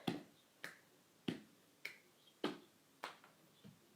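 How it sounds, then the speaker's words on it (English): Seven sharp hand claps ring out at a steady pace of about one every 0.6 seconds during an ab workout, with each clap crisp and close in an otherwise quiet room. "every time I clap, I imagine like I'm getting rid of all that negative energy"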